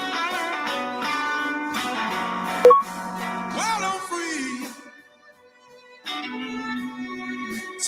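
A live concert joining a symphony orchestra with Mississippi Delta blues performers: sustained tonal music with rich harmonic layers, a brief quiet dip near the middle, then the full ensemble returning at steady loudness.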